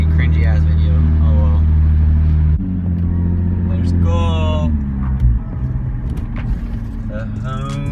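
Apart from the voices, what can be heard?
cars zooming past at a car meet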